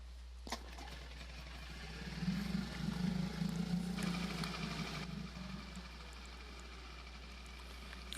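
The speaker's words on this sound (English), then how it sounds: "So I'm clicking start, and there's an animation of me starting the engine." Boat outboard motor in a sailing video game starts with a sharp click, then runs with a steady low engine drone for a few seconds before fading, with no talking over it.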